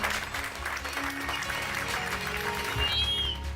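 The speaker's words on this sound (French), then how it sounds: "On applaudit, on les applaudit, on les applaudit," Steady applause from an audience at a Lions Club gala, a dense wash of clapping that carries on evenly throughout.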